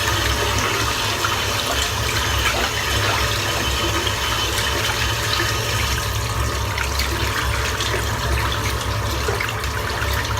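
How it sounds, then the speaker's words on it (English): Water running steadily while soap is rinsed off, a continuous close rushing splash with no pauses, filling the whole stretch at an even level. "I'll rinse the soap off."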